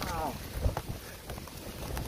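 Strong typhoon wind from Typhoon Kristine roars as a steady, broad rush with a low gust buffeting the microphone, while a voice murmurs faintly underneath.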